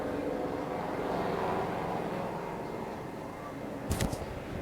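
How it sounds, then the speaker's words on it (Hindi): A helicopter passes overhead, heard as a steady, broad rotor-and-engine rumble throughout, with a brief sharper burst of noise near the end. "हेलीकॉप्टर।"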